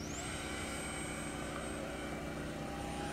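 Xane camo MB-339 50mm RC electric ducted-fan jet flying at full throttle, a steady loud whine with a high sustained tone, continuous and fairly close throughout with no talking.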